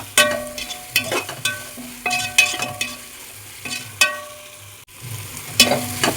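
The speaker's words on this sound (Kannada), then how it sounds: "ಇದಕ್ಕೆ ನಾವು ಇವಾಗ ಸ್ವಲ್ಪ ಹೊತ್ತು ಕೈ ಆಡ್ಸೋಣ, ಇಲ್ಲಾಂದರೆ ಒತ್ತುತ್ತೆ" Ingredients for village-style biryani dry-roasting in a pan without oil, stirred in a steady rhythm of repeated spatula scrapes and clinks over a soft sizzle, close up with no talking.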